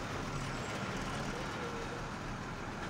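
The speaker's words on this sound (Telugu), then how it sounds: "పక్క నుంచి ఆర్టీసీ బస్సు వెళ్ళిపోతుంది ఆల్రెడీ" An RTC bus passes by at night on the road as a steady broadband rumble of engine and road noise, continuous and fairly even without a clear peak.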